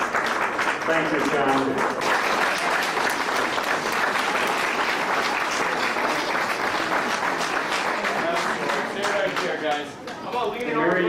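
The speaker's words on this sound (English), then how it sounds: "Let's hear it. Clap your hands." An audience claps steadily in a hall during a local skating history talk, dense sustained applause throughout with someone briefly speaking over it and the clapping dipping near the end.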